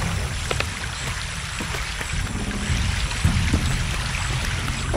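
Water pouring to power a bridge in the Shadow of the Tomb Raider video game, a steady splashing, rushing flow that holds at a constant level, close and alone.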